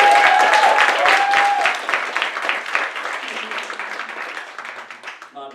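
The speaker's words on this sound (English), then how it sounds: "Round of applause for Stephen." Comedy club audience giving a round of applause, loud close clapping at first that tapers off over a few seconds, with a brief voice at the start.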